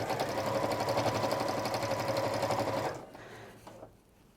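A sewing machine stitches a crease into bias-cut fabric, its fast rhythmic whir loud and steady for about three seconds before stopping abruptly, leaving only quiet room tone.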